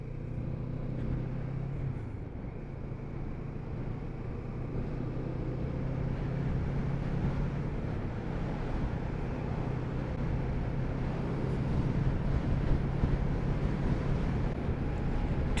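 A Kawasaki Z650RS motorcycle on the road, its engine a steady low drone under heavy rushing wind noise that builds slightly in pitch and loudness as it rides on, with no speech.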